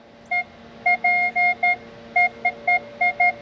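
A series of short electronic beeps sounds in irregular bursts, some single and some longer, clear and close with a faint hum underneath.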